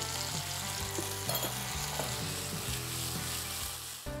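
Sausages sizzle in a pan with a spoon of tomato ketchup and a little barbecue sauce, a steady close frying hiss with a few soft stirring scrapes and no voices.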